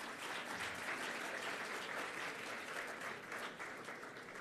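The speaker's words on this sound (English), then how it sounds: "Shall we please give them a massive round of applause?" A large audience at the Global African Hydrogen Summit 2025 bursts into steady, dense applause that holds at an even level throughout.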